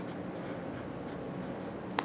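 Pen writing an answer on paper for a grade 5 maths exercise, a soft continuous scratchy rasp close by, ending in a small tap.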